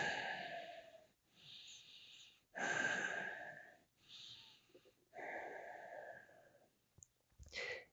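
Slow, deliberate breaths during a held calf stretch in a yoga class, several long airy inhales and exhales separated by short pauses, fairly close and clear with no talking over them.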